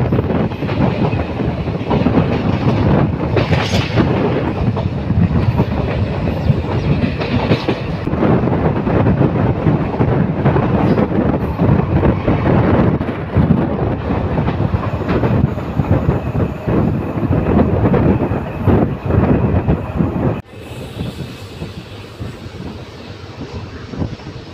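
A passenger train on the scenic Sengottai to Tirunelveli line runs steadily along the rails, a loud, continuous rumble with rhythmic clickety-clack wheel clatter, the tone shifting slightly near the end.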